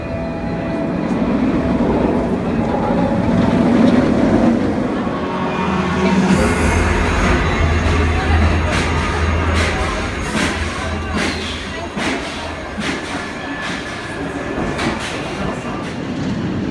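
The Nemesis roller coaster at Alton Towers makes a loud, continuous rumble of cars on track, then a run of rhythmic clacks and rattling bursts as the ride goes on.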